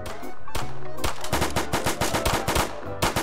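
Rapid automatic M16 rifle fire in a Roblox game, a dense loud stream of repeated shots with brief gaps, close and continuous over a few seconds.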